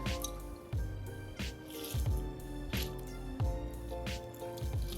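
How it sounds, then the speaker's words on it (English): Tequila cocktail poured from a shaker into a Nick and Nora glass, a soft close liquid trickle broken by repeated little splashes and dribbles, faint and alone. "we're going to pour this right out"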